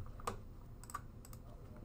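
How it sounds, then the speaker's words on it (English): Two or three quick, quiet key taps on a computer keyboard, with a small gap between them, at close range in a quiet room. "if I click the keyboard icon and tap tap the left shift"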